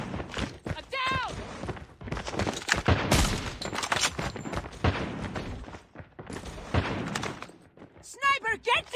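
Gunfire and sniper shots crack through a competitive first-person shooter match, dense bursts of shots and impacts layered under excited esports casters' commentary throughout.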